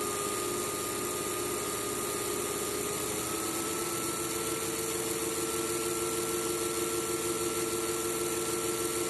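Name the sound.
electric motor braking under phase loss, high-frequency noise over low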